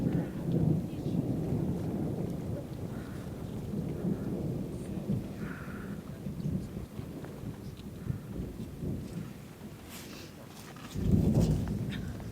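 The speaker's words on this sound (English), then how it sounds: "There's the thunder coming in." Thunder rumbles low and rolling across misty mountains in Poland near a summit, joined by rain and wind buffeting the microphone, swelling louder again toward the end.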